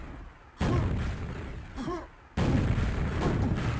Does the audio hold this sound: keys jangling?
no